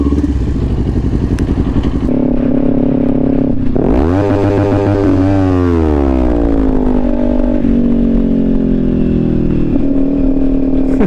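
A motorcycle at a busy bike meet revs and pulls away up close, its engine note sweeping upward through the gears over steady loud idling from other bikes nearby.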